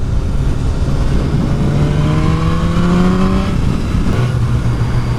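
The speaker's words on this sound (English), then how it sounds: "That bike sounds gorgeous." A 2016 BMW S1000R naked sports motorcycle engine revs loudly and continuously while riding, its pitch climbing through the gears in rising sweeps, with no speech.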